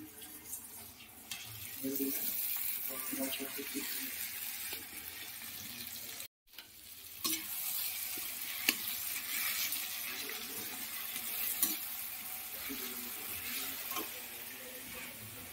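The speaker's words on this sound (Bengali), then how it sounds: "টমেটো লঙ্কাটা ভাজা হয়েছে" Tomatoes and green chillies frying in a pan in a hostel kitchen, a soft continuous sizzle with intermittent stirring scrapes and clinks, close but fairly quiet, with one brief dropout midway.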